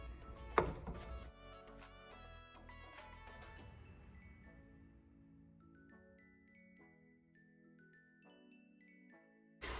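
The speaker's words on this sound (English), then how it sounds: "Let's chop it up using your spoon." Clinks and scrapes of a spoon chopping sausage as it browns in a pan, a cluster of sharp taps early on, then fading to faint intermittent clinks over quiet sizzle.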